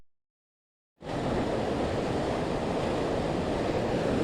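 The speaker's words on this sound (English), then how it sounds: "This water is so fast, and you can see over there too, it's really coming up" Fast-flowing flooded creek water during heavy flooding in Pennsylvania, a loud steady rushing roar that starts abruptly after a second of silence and continues unbroken without voices.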